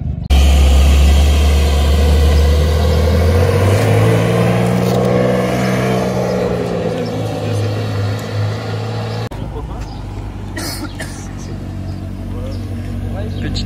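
Maserati supercar at a Gumball rally event in Haut-Doubs, engine idling then revving up in a long rising and falling sweep before dropping back, loud and close, with speech over it.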